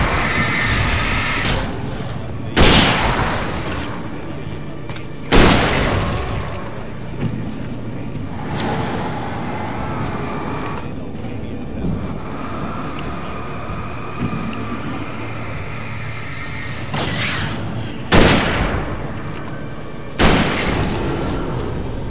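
Gunfire in the Alan Wake video game: several loud, sharp shots ring out at irregular intervals, some close together, over a steady rumbling background score.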